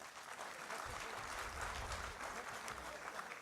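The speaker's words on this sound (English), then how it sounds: "Please give them a loud round of applause." Applause from a crowd at a formal event acknowledging the Ministry of Energy, a dense continuous clapping that holds steady at moderate level for several seconds.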